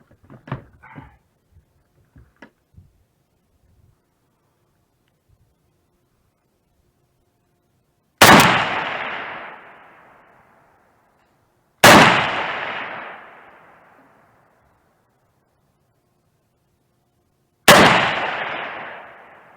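A Saiga rifle in 7.62x39 fires three loud, sharp shots at an outdoor range, each with a ringing decay, spaced a few seconds apart after some faint handling clicks and rustles.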